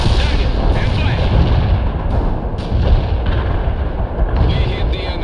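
Heavy artillery and gunfire from the World in Conflict game, a dense continuous barrage of booms and shots layered with unit voice chatter.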